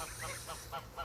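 Geese honking on a farm, several short nasal calls in an uneven series at moderate distance, with no talking.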